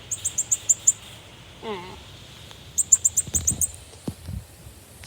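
A pet bird chirps nearby in two quick runs of short, high, evenly spaced notes, with a brief spoken word and some soft handling noise between and after them.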